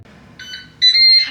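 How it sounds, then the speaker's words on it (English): A Ninja Speedi cooker gives electronic beeps as cooking starts: a short tone followed by a louder, longer beep, clear and close with no talking. "And we've beeped."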